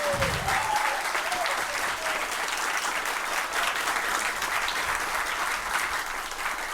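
An audience at a match between the Lycée Alexandre Pétion and Lycée Benoît Batraville schools breaks into warm, sustained applause, a dense even patter of many clapping hands holding steady at moderate loudness from start to finish.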